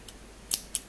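Scissors snip the loose tail of crochet yarn, two sharp close cuts about a fifth of a second apart, alone with no talk.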